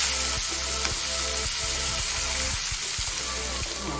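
Garlic and onions sizzle and fry steadily in a pan for a Gujarati lili haldar curry, a continuous close crackle with faint stirring clicks and no talk.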